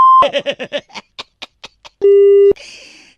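A steady electronic telephone busy tone holds for about half a second after a caller hangs up on a radio phone-in, following a burst of rapid chattering noises, then a brighter, noisier electronic sound.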